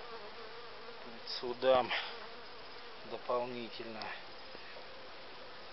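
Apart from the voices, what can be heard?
honeybees buzzing at an apiary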